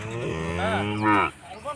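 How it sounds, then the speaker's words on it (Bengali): A single close cow moo, drawn out and rising then falling, lasting about a second, followed by quiet. "এই তো গরু"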